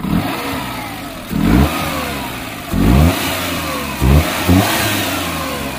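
A stage 2 tuned Maruti 800 with a 796cc inline petrol engine and remapped ECU idles loudly, then revs in four sharp bursts that rise and fall back to idle.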